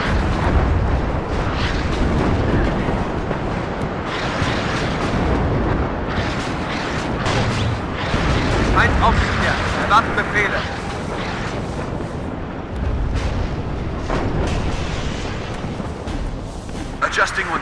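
Artillery fire and explosions from the Cold War strategy game WARNO in a 10v10 multiplayer battle keep rumbling and booming nonstop, with dense overlapping blasts and a voice speaking over the din.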